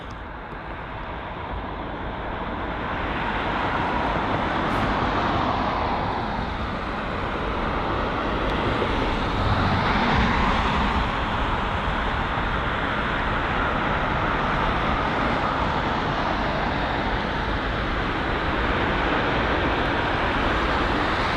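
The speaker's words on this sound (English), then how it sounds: "arrival will be the Virgin Atlantic 787-9 Dreamliner, arriving from Delhi." A Virgin Atlantic Boeing 787-9 Dreamliner arriving at Heathrow from Delhi: a long, loud, broad jet roar that swells and holds steady, with a faint whistling sweep as the aircraft passes.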